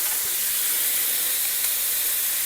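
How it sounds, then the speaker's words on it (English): Garlic cloves hit a hot pan and throw off a steady, loud, even hiss like steam, with no voices. "we're going to add about 3 cloves of garlic"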